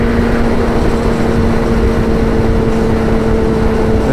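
A BMW accelerating hard on a slanted race track gives a continuous droning engine hum with a steady tonal whine, heard from inside a nearby vehicle with no talk.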